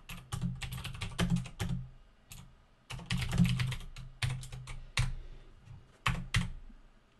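Keys clatter on a computer keyboard during Java programming, typed in quick bursts of crisp clicks separated by short pauses, close and clear with no talk.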